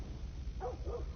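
In The Last of Us, a dog gives two quick, faint barks in succession, set low in the mix against a muffled rumbling background.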